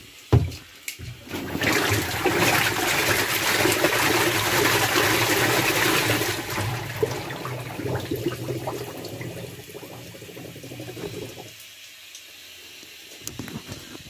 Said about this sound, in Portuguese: Tá borbulhando.